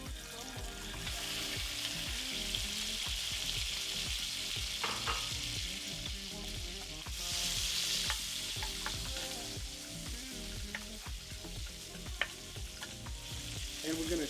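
Shrimp sizzle loudly and continuously in a pan with rendered pancetta fat, with occasional scraping and ticking of utensils over the dense frying hiss; no one speaks.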